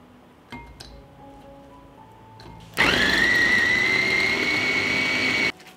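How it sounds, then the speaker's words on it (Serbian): An electric food chopper minces cut bell pepper after a few light clinks, starting with a loud, steady whirring whine that runs for about three seconds before cutting off abruptly. "I iseckanu papriku usitnit ću u secku."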